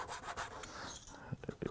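A small saw cuts through the soft wooden bow of a model canal boat, giving a fast run of close, rasping strokes that rise slightly louder near the end, with no talking.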